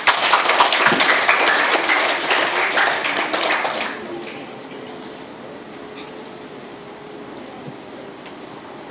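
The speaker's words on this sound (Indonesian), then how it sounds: "Beri tepuk tangan untuk Ibu Diana" Audience applause at a science competition in Indonesia rings out strongly for about four seconds, then fades to a quiet room with a faint low hum.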